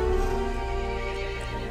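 A horse in the video game Resident Evil 8 lets out a loud, drawn-out whinny with a tonal buzzing quality, sustained across the whole moment, with no talk over it.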